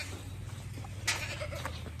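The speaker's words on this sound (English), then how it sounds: "especially when we start moving these baby goats" Baby goats on a farm bleating softly in short calls over a steady low hum, fairly faint and with no talk.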